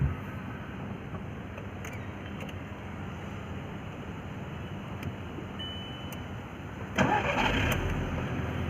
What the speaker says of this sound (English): So let me try starting the vehicle.